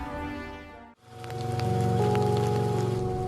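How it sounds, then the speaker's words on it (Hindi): Heavy rain on a surface in a drama scene, a steady broadband wash that cuts out briefly near the start and returns loud and continuous, with a sustained tonal background bed underneath. "बारिश बहुत तेज है, कहीं भीग ना जाना।"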